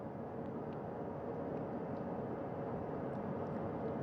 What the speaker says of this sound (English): Helicopter 1 again hovering 40 feet over the front porch.